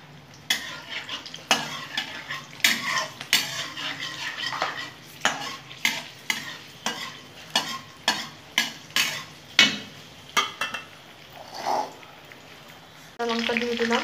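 Black cumin seeds and two dried red chillies crackle in hot oil as a spoon repeatedly clatters against the pan in a steady rhythm. The low sizzle sits under the scraping before a brief pause and a louder burst at the end.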